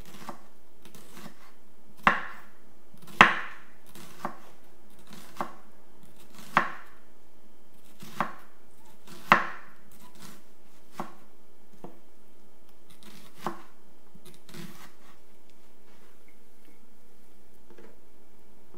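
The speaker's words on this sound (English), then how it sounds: "And this you want to thinly slice." A knife thinly slices an ingredient for pho on a cutting board, giving about a dozen crisp, separate chops at an irregular pace. The cuts are close and clear against a quiet room.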